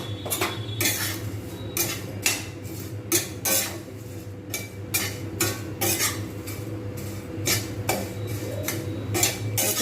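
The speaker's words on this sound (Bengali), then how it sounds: "বেশ কিছুক্ষণ ধরে এখন নাড়বো যাতে এটা বেশ একটা ক্রাঞ্চি ভাব আসে" A pan of crunchy fried flattened rice mixed with fried peanuts is stirred off the heat, the spoon repeatedly scraping and clinking against the metal in a steady, close rhythm with no one talking.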